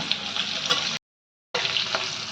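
New potatoes sizzle steadily in hot oil in a pan, a dense bright crackle that cuts out completely for about half a second before resuming just as loud.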